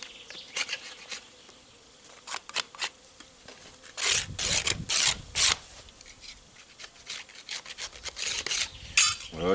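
Propolis and old wax are scraped off a wooden beehive frame, giving a series of short, close rasping scrapes that come in irregular bursts, louder toward the end, with no talking.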